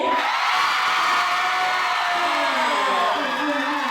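A crowd shrieking and cheering together in a sustained, loud wall of high-pitched screams lasting the whole moment.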